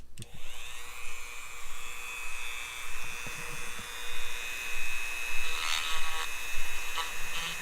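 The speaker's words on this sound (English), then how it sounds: "you can do dremeling and sanding as well, is another method, which I will demonstrate" A high-pitched rotary tool whines steadily, with scratchy grinding bursts as it sands a plastic figure surface.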